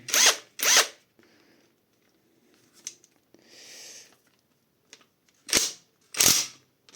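A Catpower 4226 cordless impact wrench with a 1/2-inch socket fires in short, loud hammering bursts, two at the start and two at the end, separated by quiet handling clicks and rustling.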